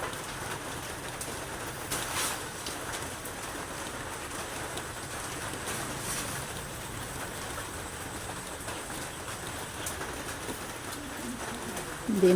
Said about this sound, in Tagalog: Hindi na kasi humintong ulan guys.